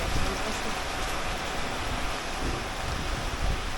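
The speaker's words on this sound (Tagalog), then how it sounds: "Naulan." Rain falls steadily during a typhoon in the Philippines, a dense, even hiss with low rumbling, close and moderately loud throughout with no clear breaks.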